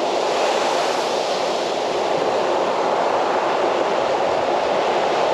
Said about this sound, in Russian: Ой, вон большая волна,